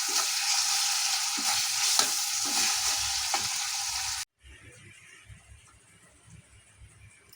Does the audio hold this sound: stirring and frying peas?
yes